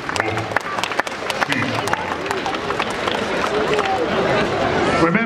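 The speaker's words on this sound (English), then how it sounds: "Big round of applause for Wedgie!" A crowd at a robot combat championship claps and cheers in dense, steady applause, with chatter and an announcer's voice on top early on.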